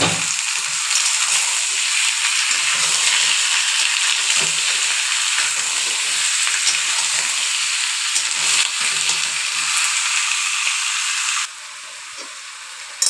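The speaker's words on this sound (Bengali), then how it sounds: "এই দেখো নুন হলুদ দিয়ে মাংসটাকে কষাচ্ছি পেঁয়াজের মধ্যে।" One kilo of chicken sautés in fried onions with salt and turmeric, a loud continuous sizzle with occasional stirring scrapes, then the hiss drops lower near the end.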